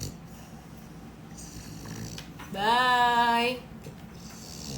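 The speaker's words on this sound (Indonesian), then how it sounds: "Ini yang ngorok nih." A pet dog snores indoors, one drawn-out nasal rumbling breath standing out clearly from a quiet background, with someone speaking softly before and after it.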